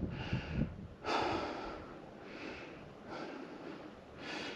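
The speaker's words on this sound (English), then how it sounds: "catching our breaths here" Heavy, close breathing after climbing a granite rock face outdoors: several deep, rasping inhales and exhales in an uneven rhythm, loud and near, with no talking.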